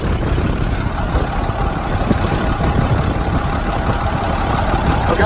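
A 2004 International bucket truck's engine idles in a steady, even rumble, close and continuous with no changes in pace.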